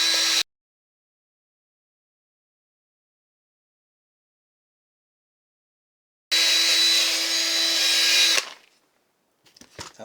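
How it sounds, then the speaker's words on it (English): A low-speed drill buffing a guitar finish whirs in two bursts, a brief one at the start and a longer steady high-pitched run later, separated by silence, followed by faint handling clicks. "this is a low speed drill. Let's see what she can do."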